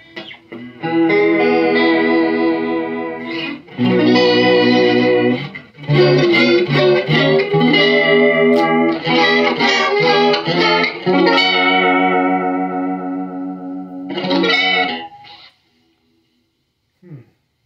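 Electric guitar chords played through a $12 modulation pedal, with a warbling, shimmering, wavering tone and sustained ringing notes, loud and close with brief pauses between phrases.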